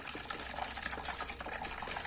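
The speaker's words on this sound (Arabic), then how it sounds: "هنضيف اول حاجه معانا 500 جرام من الميه" About 500 grams of water pours into a container for making homemade gel laundry detergent, a soft, continuous splashing gush heard alone at low volume.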